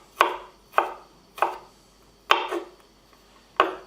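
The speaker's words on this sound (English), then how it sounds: "And then you just cut up your garlic." A knife chops garlic on a cutting board in five sharp, separate knocks at an uneven, unhurried pace, close and clear with quiet between them.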